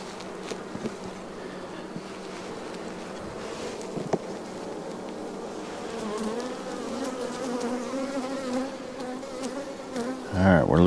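Honeybees buzz densely around an opened beehive during an inspection, a close and continuous hum with occasional handling knocks.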